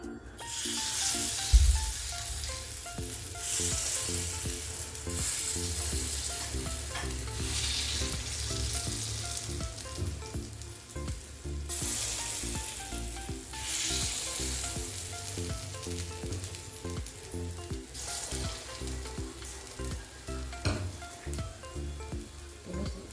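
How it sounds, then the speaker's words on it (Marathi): Batter for a soft, spongy, lacy quick recipe cooking in an oiled pan, giving a loud continuous sizzle with occasional stirring or scraping sounds, close up and without speech. "बॅटर आता ओतून घेऊया आपण त्यामध्ये"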